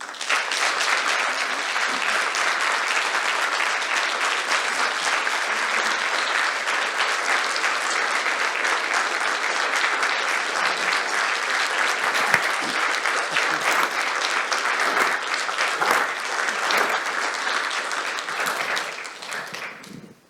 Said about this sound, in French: notre reconnaissance et notre amitié à Marc, j'inviterai les personnes qui sont présentes ici à lui donner une bonne main d'applaudissements.